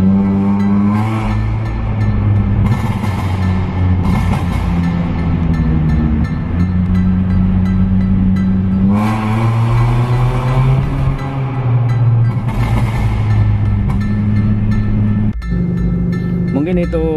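A stock Honda Jazz GE8 RS automatic, with no remap, revs up and down repeatedly, the engine note rising and falling, with bursts of crackling exhaust pops between revs, loud and close.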